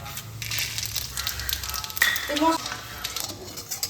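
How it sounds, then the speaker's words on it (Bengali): Dried chillies, a bay leaf and a spoonful of five-spice tempering sizzle in hot oil for a veg pumpkin dish, a soft steady crackle with a few clinks of a utensil and a voice talking over it. "এর মধ্যে এবার আমি ফোড়ন দিয়ে নেব। এখানে আছে 2টো শুকনো লঙ্কা, একটা তেজপাতা আর 1 চামচ 5 ফোড়ন।"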